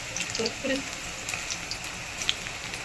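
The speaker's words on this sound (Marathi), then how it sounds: "हे बघा आता आमच्या इथे ना मस्त असा पाऊस चालू आहे" Rain falls in a steady, close hiss, with a few faint drips and a brief murmur of voices early on.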